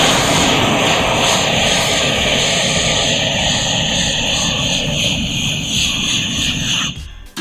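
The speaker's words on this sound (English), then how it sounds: "So to start with, we'll warm up the blades with a fluffy torch" A handheld torch blowing a steady, loud roar while warming the blades of CEP Black Jacks skis to lift old wax, continuous for several seconds before cutting off abruptly at the end.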